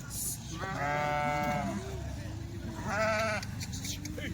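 Sojat goats bleat in two drawn-out, wavering calls, the first longer and the second shorter, heard close and loud over steady background noise and some talking.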